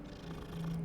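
A cat being petted in Hogwarts Legacy gives a soft, close, continuous purr with no voices.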